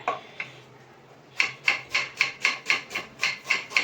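Onion chopped quickly on a kitchen board with a knife, about ten sharp, even knocks in a fast steady rhythm, close and clear, after a couple of earlier isolated taps.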